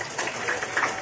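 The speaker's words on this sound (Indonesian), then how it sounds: "Tepuk tangan untuk Pak RW" Brief applause for Pak RW at an Independence Day 77 evening stage event, a short steady patch of crowd clapping, fairly loud and close.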